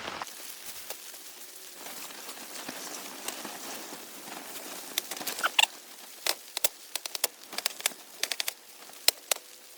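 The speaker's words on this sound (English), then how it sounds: "I want to enjoy this rain hitting the tent." Rain from a mountain thunderstorm patters on a camping tent: a steady hiss with irregular sharp taps of drops on fabric, which become more frequent and louder partway through.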